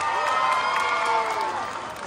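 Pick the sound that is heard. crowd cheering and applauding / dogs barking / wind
crowd cheering and applauding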